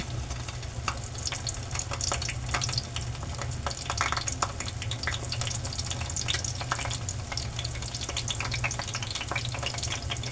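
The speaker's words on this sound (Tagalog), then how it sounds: "Sa kabila po ay magpiprito tayo ng talong" Steady crackling sizzle of eggplant frying in hot oil, continuous and close, with faint watery clinks and no voices.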